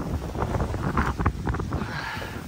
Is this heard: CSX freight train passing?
no